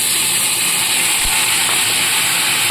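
Chopped onions dropped into hot oil with cumin and whole garam masala for an egg curry, giving a steady, close, even sizzle with a faint dull knock partway through.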